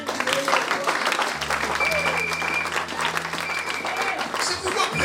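A church congregation bursts into sustained applause and cheering for the Lord, dense clapping filling the room from start to finish, with voices and some tonal music or sung notes running underneath.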